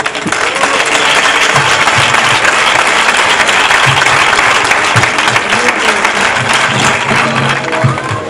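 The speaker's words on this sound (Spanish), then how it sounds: "por favor, un aplauso, que le damos enhorabuena por su segunda paternidad" An audience at a talk bursts into sustained, loud applause, dense clapping from many hands filling the room for several seconds before tapering off near the end.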